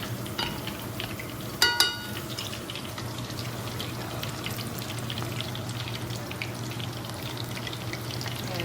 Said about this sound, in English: I also got my shallot frying away on this other pan.